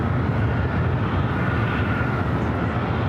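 WestJet Boeing 737-800 arriving from Vancouver at LAX, a steady dense jet roar, continuous and loud throughout with no speech.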